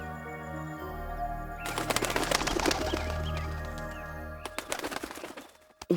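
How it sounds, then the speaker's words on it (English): A bird calls in a fantasy forest setting, its repeated cries rising over a steady hum and busy background clatter, with a sharp burst near the end. "What's with that bird?"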